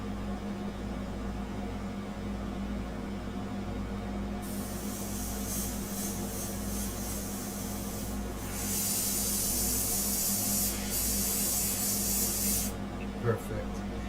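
Airbrush spraying paint for a sepia fine art portrait, a steady soft hiss that starts partway through and runs for several seconds, then stops, over a constant low hum.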